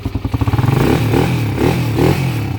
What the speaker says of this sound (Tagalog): rev mo nga brother, rev mo